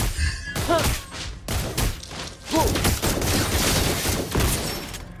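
Granger unleashes his crescendo bullets in the Mobile Legends game, a dense, loud fusillade of rapid gunshots and heavy thuds that pulses in bursts throughout, with brief whistling streaks cutting through the barrage.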